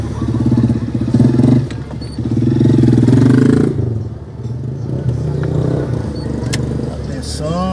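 Street traffic in the town of Oiapoque, with a motorcycle engine revving and droning close by and cars passing, plus clatter and a brief squeal, loud and continuous.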